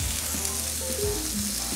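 Onions sizzle and fry in vegetable oil in a hot cast iron pan, a steady close crackling hiss with a few faint stirring touches and no talk.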